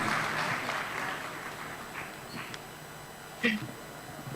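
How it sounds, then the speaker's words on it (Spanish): Audience at an obstetrics medical conference applauds a speaker from a hospital in El Alto, La Paz, a faint, thinning round of clapping that fades out, with scattered noises and a brief bump near the end. "un fuerte aplauso para nuestro expositor del Hospital del Norte del Alto de La Paz"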